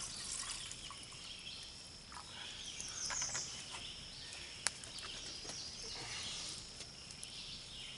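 Water trickles from a jug beside a campfire at an overnight canoe campsite; a faint, steady pour sits low in the mix under outdoor ambience with insects chirping.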